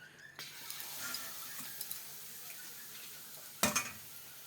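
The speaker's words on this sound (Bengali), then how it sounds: "এখন তেলও গরম হয়ে গেছে, এখন পাঁপড়গুলো ভেজে নেব।" Papad frying in hot oil produces a soft, fairly quiet sizzle and crackle throughout, with a few small clicks and one sharp clatter near the end.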